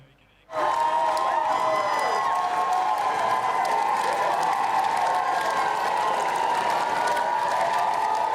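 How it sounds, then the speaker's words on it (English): A sudden burst of crowd noise swells and holds loud and dense, cheering and shouting with some clapping mixed in, continuing to the end. "Go on, get the applause going."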